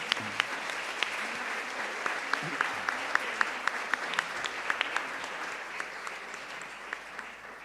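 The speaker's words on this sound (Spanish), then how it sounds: "un aplauso para los tres" Congress audience applauds three panelists after a panel on the family, a steady wash of clapping with individual sharp claps standing out, moderately loud and continuous.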